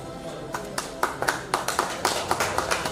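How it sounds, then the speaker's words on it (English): A small group at a psychiatry conference applauds a hotel owner with sparse, distinct handclaps in an irregular rhythm, fairly close. "Please give a big round of applause to our hotel owner, Gade Madhusudan Garu."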